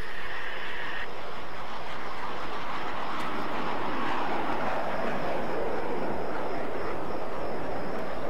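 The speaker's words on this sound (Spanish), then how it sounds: "¿Ven el helicóptero que está sobrevolando la antena?" A helicopter in the Arma 3 video game drones steadily overhead, a continuous broad engine and rotor roar filling the whole stretch with no pauses.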